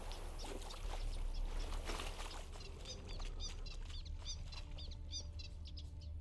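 Birds in The Witcher 3 video game give quick, repeated chirps and tweets, growing clearer midway, over a steady low ambient rumble, with no voices.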